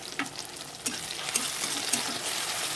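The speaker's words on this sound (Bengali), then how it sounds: "এবার আমি টমেটোগুলো দিয়ে দিচ্ছি দিয়ে আবারও ভালো করে নাড়াচাড়া করে ভাজতে থাকবো" Tomatoes and onions fry in hot oil in a pan while a spoon stirs them, making a continuous close sizzle broken by a few scraping stirs and soft bumps, with no one speaking.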